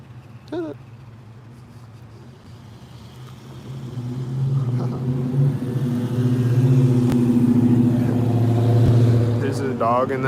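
A car engine rumbles and grows louder as a vehicle passes close by, building to a steady roar, with faint voices in the background.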